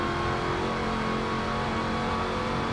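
Race car engine on the Bathurst circuit in Forza Motorsport 7, a Ford versus Holden battle, droning steadily and loudly throughout with a continuous revving tone and no talk.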